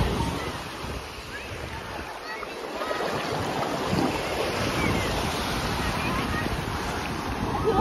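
Surf at York Beach, Maine washes in and breaks continuously, a loud, broad rush mixed with heavy wind buffeting on the microphone, without clear separate wave crashes.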